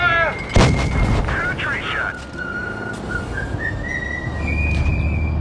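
A tank cannon fires in a combat video game with one sharp, loud blast, then whistling and tonal game sounds ring on underneath.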